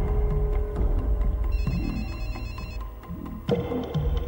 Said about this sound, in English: He heard her phone ringing in her jacket pocket.